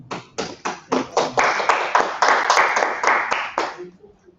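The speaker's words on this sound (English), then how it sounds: "why don't you give him a big round of applause?" A short round of clapping from a conference audience, starting as scattered claps and building into steady applause before stopping abruptly.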